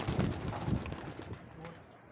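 A pigeon coos a few times close by in a short outdoor moment, with a soft low rumble and light background noise.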